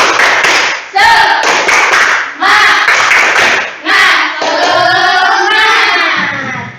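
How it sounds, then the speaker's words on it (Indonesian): Children chant a rhythmic clapping cheer in a classroom, loud voices in short bursts punctuated by claps in a patterned beat. "Tepuk semangat"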